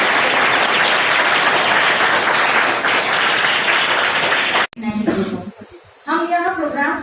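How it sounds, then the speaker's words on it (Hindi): Schoolgirls at a girls' education campus in Chhindwara give a dense, loud round of applause at a science outreach event, which cuts off abruptly and gives way to talking voices. "ताली।"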